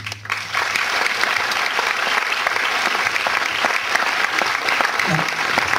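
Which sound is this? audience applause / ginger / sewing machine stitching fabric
audience applause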